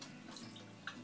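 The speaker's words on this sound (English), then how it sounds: "I'm just going to water them" Water trickles and splashes faintly into a container of buckwheat sprouts as it is filled, a quiet, steady running sound with a few small drips standing out.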